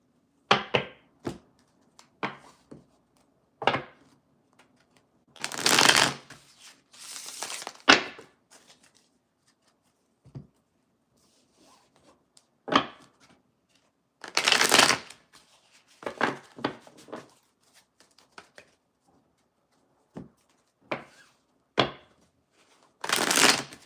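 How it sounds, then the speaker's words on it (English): Tarot cards are shuffled in repeated bursts of riffling and shuffling, close and crisp, separated by quiet pauses and light handling noises. "Gonna do one more shuffle."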